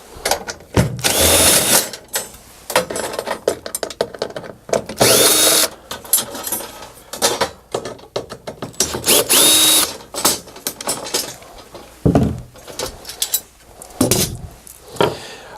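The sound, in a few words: power drill with T27 Torx bit removing screws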